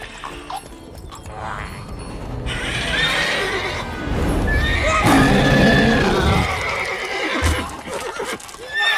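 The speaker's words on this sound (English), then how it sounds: "Go there, Roach." Geralt's horse Roach in The Witcher 3 whinnies and neighs loudly over clip-clopping hooves, with game sound effects layered around it.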